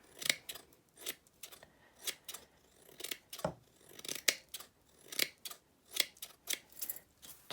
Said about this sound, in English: we're going to go back in, snip it again till you like the look of your